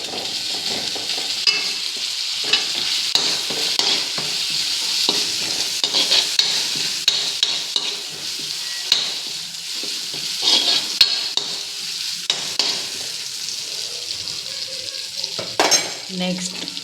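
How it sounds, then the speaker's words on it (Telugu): Ginger garlic paste frying with fried onions for soya curry, a steady oily sizzle under repeated scraping stirs of a spoon in the pan, with occasional clinks of utensils against metal. "చూసారా ఆనియన్స్ ఫ్రై అయితే మనం ఇప్పుడు జింజర్ గార్లిక్ పేస్ట్ వేసుకుందాం."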